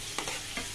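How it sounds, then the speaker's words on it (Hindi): Sliced onion with ginger garlic paste sautéing in a hot pan for pao bhaji, a steady soft sizzle with a couple of brief stirring scrapes over less than a second. "ये लो हीट पर हम फ्राई कर रहे हैं।"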